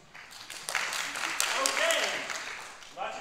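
Brief, scattered applause from an improv comedy audience at a Christmas-themed show, rising and fading over a few seconds, with a single voice speaking over it.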